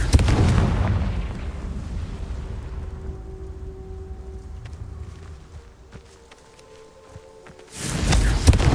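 Confringo explosive spell cast in the Hogwarts Legacy video game, a loud booming blast at the start that rumbles and decays over several seconds, followed by a second heavy impact near the end.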